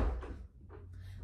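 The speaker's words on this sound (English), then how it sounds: "Keeps opening and closing my door" A door in a home is opened and closed, giving soft thuds and rattles over a low background hum, with no talking.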